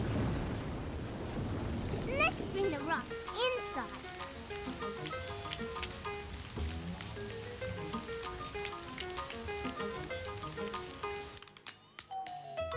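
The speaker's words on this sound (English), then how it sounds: "It's raining. We can play in the rain." Steady cartoon rain and rolling thunder at a beach in Caillou, with a crack of thunder early on, then continuous rain behind children's talk and light music, fading near the end.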